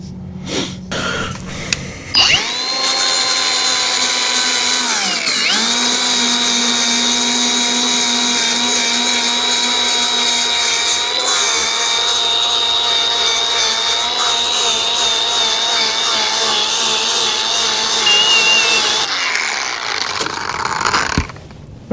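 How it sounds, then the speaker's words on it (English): A power sander drones loudly and steadily on blistered paint of an old Jeep body, pitch dipping briefly under load, running for nearly twenty seconds before winding down. "And keep sanding."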